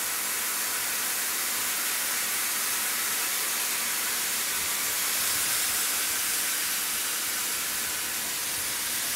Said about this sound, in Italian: Ottenuta la rosolatura del coniglio, innaffiamo con il vino bianco, lasciamo evaporare,